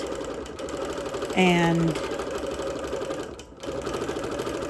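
A sewing machine quilts through thick wool layers, a steady close-up rapid stitching hum that briefly dips, with a short spoken word and a tonal sound partway through.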